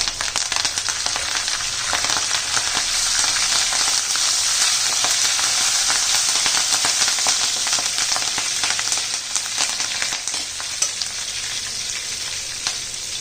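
Asafoetida and curry leaves hit hot tempering oil with a loud, close, continuous hiss and crackle that runs unbroken for over ten seconds, easing slightly near the end.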